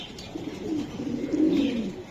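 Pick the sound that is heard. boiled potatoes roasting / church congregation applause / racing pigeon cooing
racing pigeon cooing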